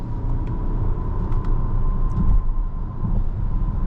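A 2025 Acura MDX Type-S SUV on the move gives a steady low engine and road rumble from inside the cabin, continuous and fairly loud, with a faint tonal hum.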